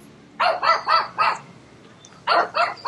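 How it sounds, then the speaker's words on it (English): Two pugs bark in two quick bursts, three sharp barks, a pause, then three more, close and loud with no talk over them. "And then there's two pugs over here, too."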